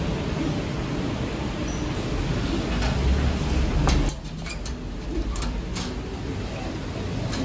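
Red check pigeons coo softly in a loft over a steady wash of rain-like background noise, with some faint clicks and shuffling.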